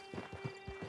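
Horse hooves clip-clopping at a steady walking pace in Red Dead Redemption 2, five distinct hoof falls over a constant low tonal hum, with no talk.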